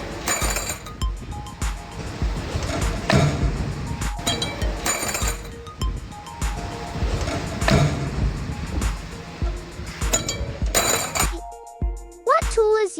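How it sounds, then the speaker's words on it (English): A high-powered automatic metal forming machine pulls, bends and cuts iron rods into oval chain links at a very fast pace, giving a dense, continuous run of rapid metallic clinks and clatters that breaks off briefly near the end. "This high-powered automatic metal forming machine pulls, bends, and cuts iron rods into oval chain links repeatedly at a very fast pace."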